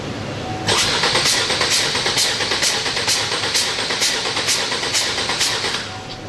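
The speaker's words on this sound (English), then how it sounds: "now it wants me to crank the engine" An engine cranks over on its starter during a relative compression test with the throttle held wide open, giving a steady, rhythmic chug of compression pulses that is close and loud, with no talking.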